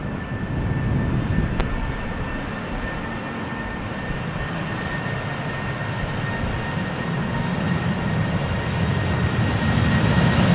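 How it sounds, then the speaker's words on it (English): KLM Boeing 737 jet airliner departing runway 36L at Amsterdam Schiphol, a steady broad engine roar with a faint high whine, continuous and distant, swelling slightly toward the end. "We have another 737 from KLM, and we have the first A220 from Swiss after that."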